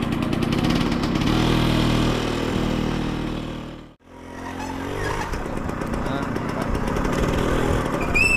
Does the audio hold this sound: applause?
no